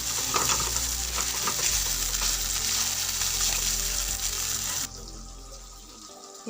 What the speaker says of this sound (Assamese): এতিয়া পিচি অনা আদা নহৰুখিনি দি লৈছোঁ